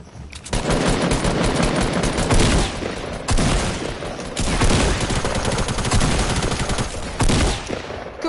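Sustained automatic gunfire from Fortnite, loud and continuous in long rapid bursts with brief gaps, no talking over it.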